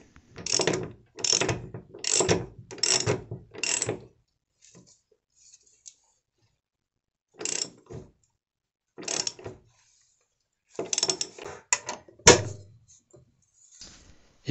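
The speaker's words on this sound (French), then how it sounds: "Et puis on serre encore plus fort en allant reprendre les outils qui nous avaient servi à enlever les boulons." Tightening bolts with hand tools brings bursts of rapid ratchet clicking, five quick runs in a row, then scattered shorter clicks and pauses, close and crisp with no speech.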